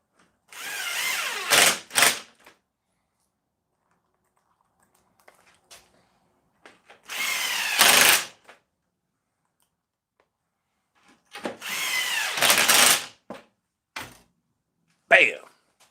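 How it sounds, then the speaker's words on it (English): A power drill drives screws into wood pocket holes in a workshop, several short whirring bursts separated by pauses, with a few faint clicks and knocks between them. "Drill just for pocket holes."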